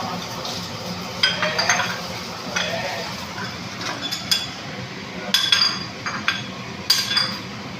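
Chicken feet for adobo bubble and simmer in a pot, with occasional sharp metallic clinks and scrapes of a utensil against the rim.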